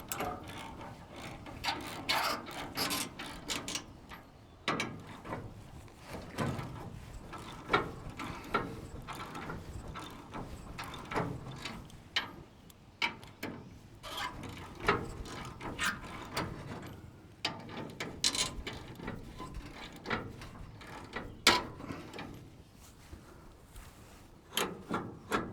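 A ratchet wrench works oiled bolts on a hay baler in irregular bursts of quick metallic clicks, close and moderately loud, with pauses and clunks between strokes.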